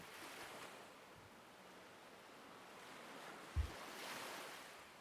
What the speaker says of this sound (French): Vous entendez au loin le bruit régulier des vagues.